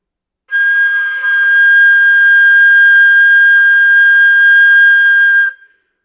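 A flute fitted with a Win-D-Fender sounds one loud, steady, pure whistle-like note held for about five seconds near a candle flame, alone and close, then stops abruptly.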